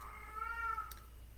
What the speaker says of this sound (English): I've got two cats. You may be able to hear them meowing in the background.